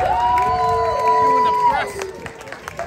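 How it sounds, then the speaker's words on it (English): Crowd cheering and applause at Legoland New York, a busy wash of claps and shouts under a long sustained tone and overlapping voices, loud and close, fading somewhat toward the end. "Can we get a big round of applause?"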